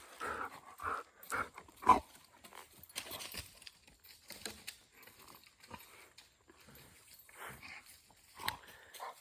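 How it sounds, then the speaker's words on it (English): A dog makes scattered snuffles, grunts and soft vocal noises outdoors, quiet and irregular, with pauses between bursts. "So if you hear some weird noise, it's that dog."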